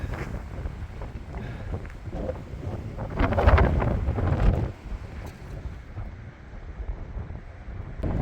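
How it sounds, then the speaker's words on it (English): Strong gusting wind buffets the microphone outdoors on a cold, blustery, snowy spring day in Albuquerque, a low continuous rumble that swells louder for a second or two midway and then settles back, with no talk. "If it wasn't for the wind."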